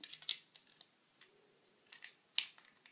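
Scissors snip through a birthday present's packaging, giving a few sharp, close cuts with quieter rustling between them in an otherwise quiet room.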